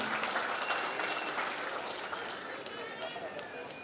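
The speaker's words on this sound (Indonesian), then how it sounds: "Mari kita beri aplaus dalam kemeriahan HUT NKRI ke-78 tahun." A crowd applauds at an outdoor Indonesian Independence Day ceremony in Biak Numfor, a steady wash of clapping that fades slightly while a voice speaks over it.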